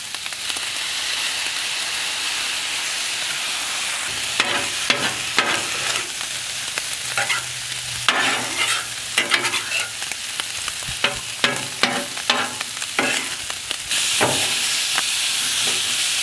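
Soy sauce sizzles and spatters on steaks frying on a hot surface at home, a loud, steady crackle broken by clattering stirs and scrapes, rising louder near the end.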